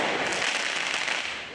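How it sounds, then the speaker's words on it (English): Fireworks crackle and pop in dense, rapid bursts in front of riot police lines at a night street riot, a loud sizzling crackle that fades slightly at the end. "Fireworks crackle and explode in front of riot police lines."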